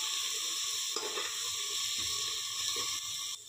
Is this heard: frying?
yes